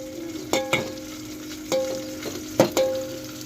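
Curry masala sautéing in oil in a pan, a steady close sizzle broken by a few sharp stirring scrapes and clatters of a spoon against the pan.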